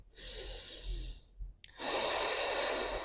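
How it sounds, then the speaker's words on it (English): Slow, deep breathing during a wall-supported yoga exercise, heels against the wall: a long airy inhale, a brief pause, then a strong rushing exhale, close and alone. "taking in 3 breaths"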